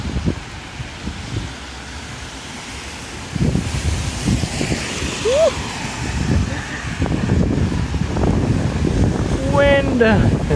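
Night wind on a street in Paramaribo, Suriname, a gusty rumbling rush buffeting the microphone, strengthening partway through, with faint background sounds scattered beneath.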